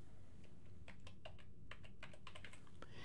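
Computer keyboard keys typed in a quick irregular burst, a dozen or so close, crisp clicks clustered after a brief pause, alone against a quiet room hum.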